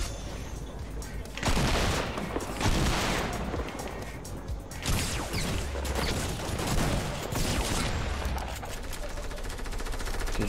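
Rapid, loud, repeated shotgun blasts from a double pump setup in a Fortnite tournament match, firing in dense bursts amid other game gunfire and impacts.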